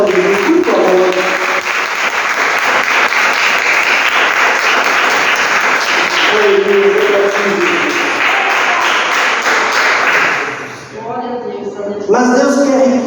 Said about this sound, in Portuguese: Você merece uma salva de palmas para Jesus